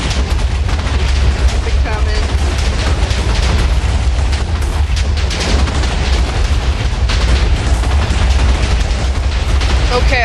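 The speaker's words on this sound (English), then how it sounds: "We just had a few more explosions that needed to happen." Explosions in the Minecraft video game, a dense, continuous roar of overlapping booms and blasts lasting throughout, loud and close, with no clear pauses between detonations.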